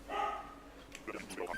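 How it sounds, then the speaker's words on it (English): A pet dog barks a few times in the background, faint and distant, behind a person talking. "You can probably hear my dog barking in the background"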